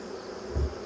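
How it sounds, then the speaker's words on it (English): Bees in an open hive, a steady low insect hum that swells briefly louder near the end of a short stretch with no talk. "just look at all these bees."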